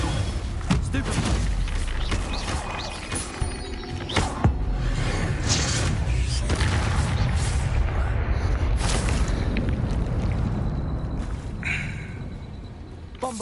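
Bombarda explosion spells cast in the Hogwarts Legacy video game, with repeated booming blasts and thuds over a dense, continuous rumble of combat effects.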